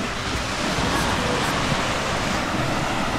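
Wave pool at a water park in a nautical club, producing a steady, full wash of surf-like rushing water with wind noise on the microphone, continuous and fairly loud, with no distinct voices.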